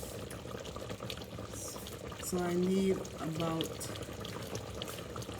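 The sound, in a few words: water being poured into a pot for curry chicken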